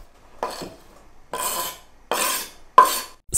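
Chopped onion is scraped into a frying pan with olive oil in four short, close rasping bursts separated by quiet pauses.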